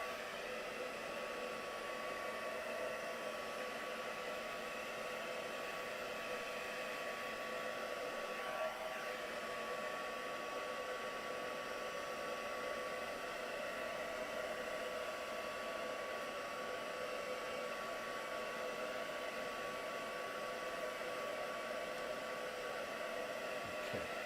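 A hair dryer drying watercolour paint on cardstock runs continuously as a steady, even whir with no breaks or voices.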